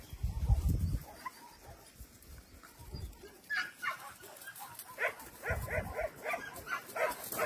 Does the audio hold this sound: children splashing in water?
no